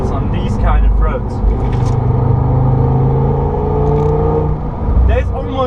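Engine and road noise from a tuned Audi TT RS with an APR Stage 1 upgrade (476 hp) driving along a country road, a steady low rumble that holds throughout under continuous talk from people in the car.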